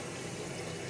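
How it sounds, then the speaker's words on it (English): Water pouring steadily from a tap, a constant close rushing hiss with no pauses. "So now the water should come on."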